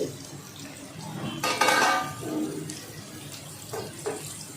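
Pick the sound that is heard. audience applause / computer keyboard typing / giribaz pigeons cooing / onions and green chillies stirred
onions and green chillies stirred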